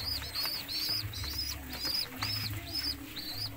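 A pigeon feeding its chick, with repeated high squeaky begging chirps in regular bursts over soft low cooing and faint wing flutters, close and fairly quiet.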